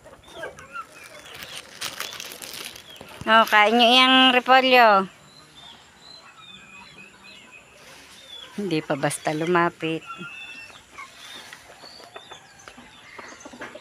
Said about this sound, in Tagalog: Ang mga manok ni Makoy, oh.